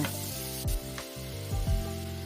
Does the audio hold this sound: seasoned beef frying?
yes